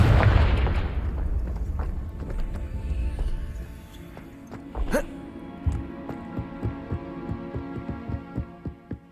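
A heavy boom opens from the Confringo fire spell in the Hogwarts Legacy video game, its deep rumble fading out, followed by a sharp burst and a run of lighter rhythmic thuds.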